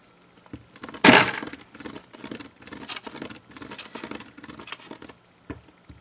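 A bumpy polymer clay daisy cane rolled by hand on a work surface gives a close series of soft irregular crackling patters, with one sharper crunch near the start, alone with no talk.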